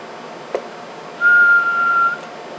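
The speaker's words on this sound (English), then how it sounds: "I'm going to give it a quick whistle." A person whistles into a Ranger RCI-63FFC1 CB radio microphone, a single steady high tone lasting about a second over a hissing background with faint clicks, and no talk.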